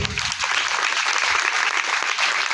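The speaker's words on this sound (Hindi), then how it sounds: "हाथ उठाए, जोरदार तालियां बजा दें" Congregation applauding at a memorial service, a dense, steady wash of clapping filling the space without a break, loud and close throughout.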